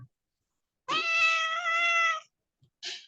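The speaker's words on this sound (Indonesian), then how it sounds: "Siapa itu bawa kucing ya?" A cat lets out one clear, drawn-out meow, close and fairly loud, followed by a short second call after a pause, in an otherwise quiet indoor setting during a religious study session.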